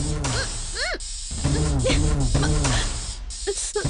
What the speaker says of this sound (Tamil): இதுதான் ஸ்ப்ரே. இது இப்படியே போட்டா அப்படியே வேர்த்து கொட்ட மாதிரி ஆயிடும்.